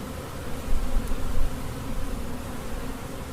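Honey bees buzz in a dense, steady drone at close range while drone comb is removed from a hive for varroa control, swelling briefly in loudness, with no voices.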